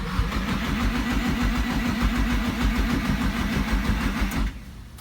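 A Nissan SR20 engine in a drift car cranks and catches, running rough and rumbling with a pulsing beat for several seconds before dropping off sharply, close and loud with no talk.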